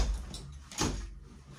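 A door is opened with a single short clunk and scrape about halfway through, fairly close and moderately loud, set against a low steady background rumble with no talking.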